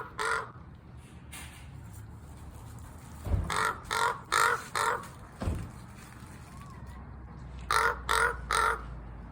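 A raven outside a small grocery store near the Grand Canyon, Arizona, gives a loud run of harsh caws in rhythmic bursts, then repeats them, with two dull thumps and steady background noise between.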